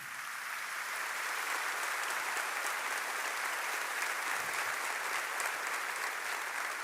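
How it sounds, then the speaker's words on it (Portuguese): A church congregation applauds during a Sunday service, a steady, dense wash of clapping that holds at an even level throughout with no one speaking over it. "Você pode aplaudir ao Senhor."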